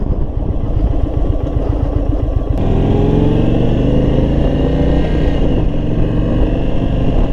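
A 2022 Indian Super Chief motorcycle engine while riding in second gear around 2300 RPM, loud close low throbbing exhaust pulses that smooth into a steady rising drone after a shift, no voices.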